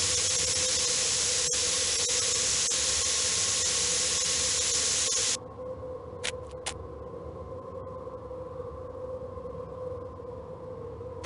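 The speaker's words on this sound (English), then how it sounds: "This must be where the steam is escaping." In a video game set aboard the Orient Express, a loud, steady hiss of steam escaping from a leak runs for about five seconds, then cuts off, leaving a low hum with a few brief hissing bursts.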